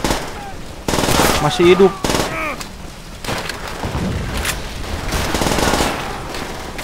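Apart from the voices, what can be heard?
gunfire from enemies in video game Call of Duty World at War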